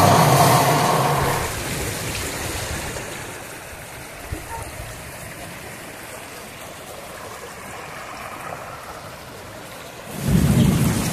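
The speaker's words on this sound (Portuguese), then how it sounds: "a chuva está muito forte" Heavy rain pours steadily near a stream, with thunder rumbling loudly at the start and again near the end, and a faint voice briefly audible under the downpour.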